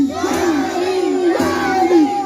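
A large crowd at a naat gathering chants "Haidari" in unison, voices rising and falling in a repeated melodic phrase, loud and close, like a rhythmic slogan shouted together.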